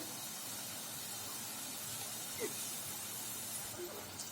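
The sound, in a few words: potato chips frying in oil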